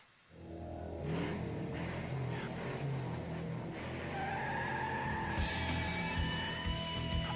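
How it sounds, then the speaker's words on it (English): Race car engines starting and revving for an auto race, a dense sustained roar that swells in and holds loud throughout, brightening toward the end, with no talk. "Drivers, start your engines."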